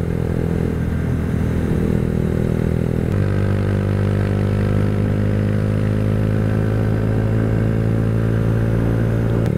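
A Honda Grom motorcycle from 2022 hums steadily and loudly while ridden, its engine note stepping to a new gear partway through and then holding a smooth, droning pitch over wind rumble, with no talking.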